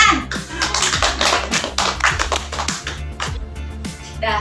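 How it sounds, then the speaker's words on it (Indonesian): Group of children clapping hands in a counseling-group session, a quick run of sharp claps over a few seconds while kids' voices chatter underneath, fairly close and lively. "Tepuk tangan."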